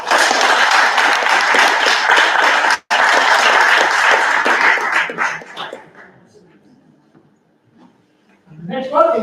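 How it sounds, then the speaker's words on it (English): A graduation audience applauds for an absent award winner, with dense clapping that breaks off briefly, tapers off into near silence, and is followed by a voice at the close. "Would you give her a round of applause?"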